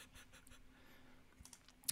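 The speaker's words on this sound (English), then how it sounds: "my keyboard is too loud" Sparse, faint key clicks from a 2020 Unicomp Model M keyboard over a low steady hum in a quiet room, ending with one sharper, louder click.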